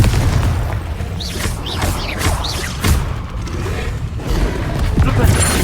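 Spell explosions and magical bursts from the Confringo spell in Hogwarts Legacy gameplay on PS5, with repeated booming blasts, whooshing sweeps and rumbling impacts layered over a dense, loud battle soundscape.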